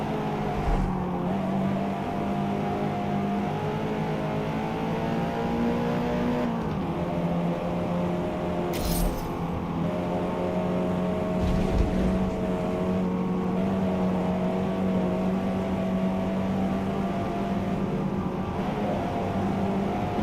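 A car in Forza drives at sustained full throttle, engine droning loud and steady with pitch climbing through gears and a brief lift before pulling hard again, near and without talk.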